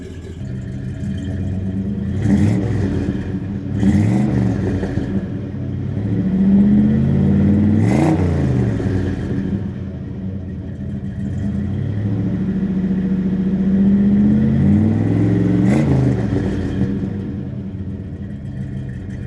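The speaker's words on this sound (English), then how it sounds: "Let's go hear that new exhaust." A 1974 Chevrolet C10 dually pickup with a newly fitted exhaust revs repeatedly, its engine rumble rising and falling in several distinct swells over a steady idle, loud and close with no talking.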